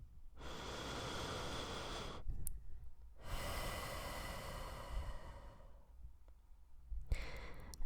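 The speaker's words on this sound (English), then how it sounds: "So take a deep breath with me." Two long, deep audible breaths, one slow inhale and one slow exhale, close to the microphone, with short pauses between them.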